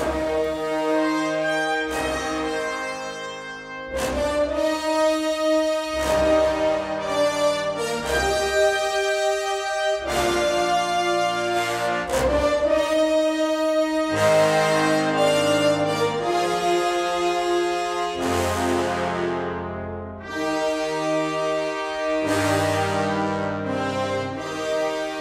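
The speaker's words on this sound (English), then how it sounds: "so you can hear like how great that sound is of just the whole brass group." A full brass section in a studio recording of the Terminator: Dark Fate theme plays loud, sustained chords that swell and shift in blocks, with brief pauses between phrases. No voices are heard.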